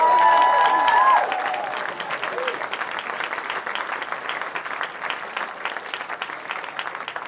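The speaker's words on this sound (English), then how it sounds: "Give her a round of applause." An athletics crowd at the Orkney 2025 Island Games applauds a former high jump medallist, steady broad clapping from many people after a brief bit of amplified sound at the start.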